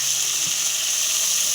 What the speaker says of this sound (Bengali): এবার দিয়ে দেব হালকা পরিমাণে জল,